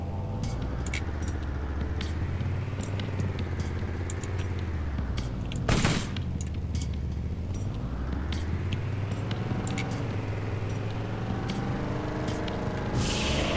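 Combat rifle fire in the video game Borderlands, with many sharp shots in bursts over a low, droning engine hum and one louder blast midway.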